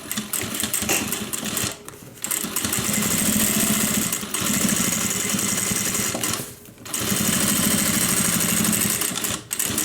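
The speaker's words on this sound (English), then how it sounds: "I'm going to stitch all the way across in a larger stitch length" A sewing machine runs a long seam with a larger stitch length, loud and close, its fast buzzing motor whir holding steady in long runs broken by two brief stops.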